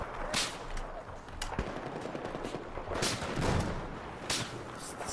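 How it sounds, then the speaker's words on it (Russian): Gunfire in the video game Battlefield 4 cracks out in several sharp, isolated shots, some near and some more distant, over a low background rumble. "Стреляют вон."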